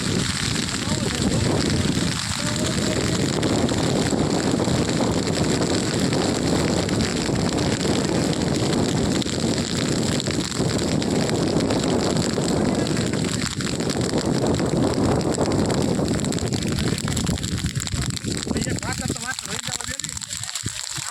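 Strong wind roars steadily into the microphone with buffeting gusts at a burning wheat field in Devalki village, a continuous rushing noise that eases slightly toward the end.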